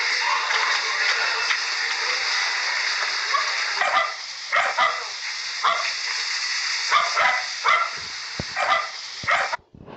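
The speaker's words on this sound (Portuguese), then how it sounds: "aqui da favela onde eu moro, as cachorradas só latindo." Several dogs bark and yip in a favela alley, the sound bright and somewhat distant, in bursts over a continuous hiss of background noise that cuts off at the end.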